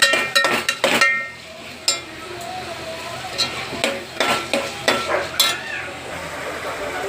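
Sprouted moth beans and potato are stirred in hot oil in a pan, with a soft sizzle under repeated scraping clinks and knocks of a spoon against the pan.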